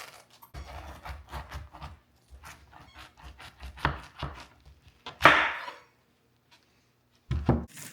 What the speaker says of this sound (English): I'm going to cut off this core, and then we'll cut it in chunks, wash it up.